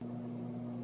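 A microwave oven with an egg inside runs with a steady, close electrical hum, unbroken and with no voices.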